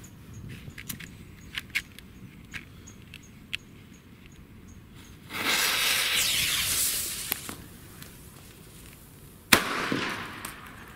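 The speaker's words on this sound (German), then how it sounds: "Wir testen mal die Kanonenschläge von Weco." Weco Kanonenschläge firecrackers set off outdoors, a hissing burst of sparks lasting a couple of seconds followed by a sharp bang, with scattered small clicks and pops around them at moderate distance.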